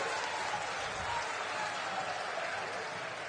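Applause from the crowd at a public rally for Rahul Gandhi in Shahdol, Madhya Pradesh: dense, steady clapping from a large outdoor audience, loud and continuous throughout.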